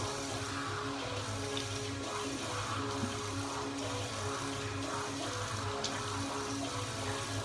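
Tap water runs steadily into a sink for rinsing a face after a shave, a constant close splashing flow with slight gurgles and no talking over it.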